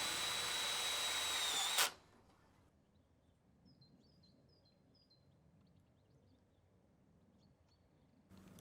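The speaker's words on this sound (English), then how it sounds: "Tighten and secure the loose post using a self-drill screw." A power drill whines loudly as it drives a self-drill screw into a polytunnel post outdoors, then stops abruptly. Faint birds chirp in the quiet that follows, and a brief burst of drilling returns at the end.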